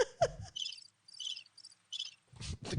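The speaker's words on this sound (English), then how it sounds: "The crickets." A cricket chirping sound effect plays as rhythmic pulsed bursts of high-pitched trilling, fairly loud and close, with brief other noises at the start and end.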